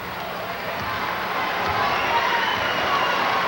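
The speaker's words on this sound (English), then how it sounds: "The crowd into it now for the local Pennsylvania team." Crowd at a 1996 high school basketball game, St. Patrick's versus Whitehall, cheering for the local Pennsylvania team, a steady, loud roar rising late in the clip, with no clear voices above it.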